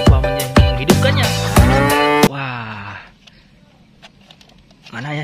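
A battery-powered toy water buffalo that can walk gives loud, repeated electronic mooing bellows near the mic, then fades into a quiet mechanical hum.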